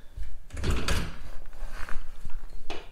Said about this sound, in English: I can't figure out how to open the door.